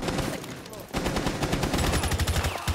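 Rapid automatic gunfire in the tactical shooter game Tom Clancy's Rainbow Six Siege, a close, loud rattle of fast rhythmic shots after a brief pause, running steadily to the end.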